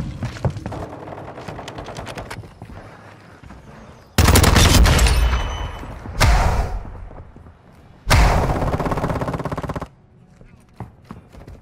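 Video game gunfire from a silenced TR-76 Geist rifle, three loud sustained bursts separated by short pauses, close and dominant, with game noise between the bursts.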